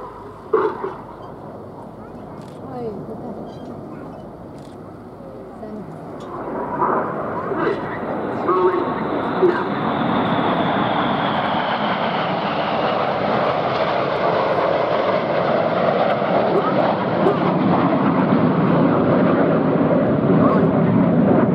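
Red Arrows display jets at the Duxford air show roll into a new manoeuvre, their engine roar rising from a distant rumble to a loud, sustained sweeping whoosh that fills the air.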